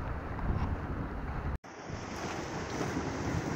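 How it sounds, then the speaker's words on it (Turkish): Steady wind roars over open sea on a mullet fishing trip off Mersin, a loud constant rush with a brief dropout partway through. "Abi rüzgar kötü oldu."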